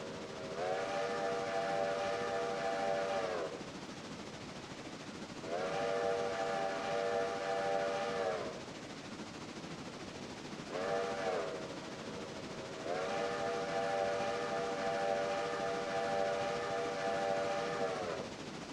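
A logging train in the railroad video game Railroader sounds a steam whistle in four blasts, three long and one short, each a clear layered tone over a soft rolling rumble, heard alone without talk.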